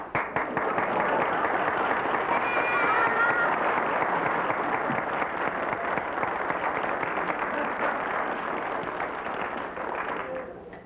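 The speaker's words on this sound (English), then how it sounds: "If we had a real audience, they'd applaud now." Dense, sustained audience applause from a 1953 studio sitcom audience fills the whole stretch evenly, a steady wash of many hands clapping before it fades slightly at the end.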